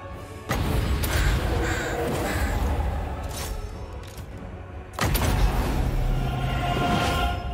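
Crows cawing in the Total War: Warhammer 2 video game, harsh repeated caws over a low rumbling battle ambience, with a louder flurry of calls breaking in midway.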